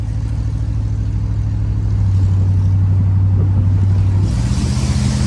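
A 1969 Chevy Impala's engine runs steadily while driving, a loud, continuous low drone with a stable hum and rising road and wind noise near the end, no talking.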